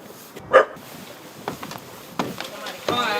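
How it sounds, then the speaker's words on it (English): A dog hidden under a set of steps gives one sharp, fairly loud bark, followed by fainter scattered knocks and rustles nearby. "I'm hearing another bark from over here. It's under those steps, I think."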